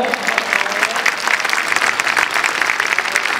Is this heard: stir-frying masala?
no